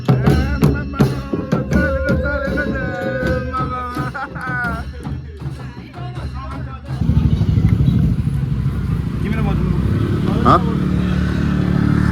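A motorcycle engine hums along close by while people talk over it on a ride with a wedding party, the ride noise growing louder and windier partway through.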